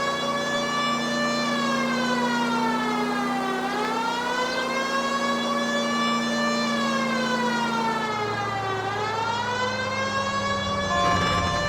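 A loud police car siren in L.A. Noire wails continuously, sweeping up and down in long cycles, with an engine humming underneath.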